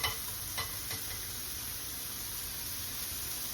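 Onions or aromatics sautéing in a pan at the start of a Bolognese ragù give a faint, steady sizzling hiss, with a couple of soft clicks early on and no voices.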